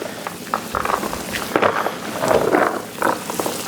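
Sausage meat being mixed with high-temp mozzarella cheese, giving soft, squishy, wet slaps and rustles that repeat unevenly at close range with no voices.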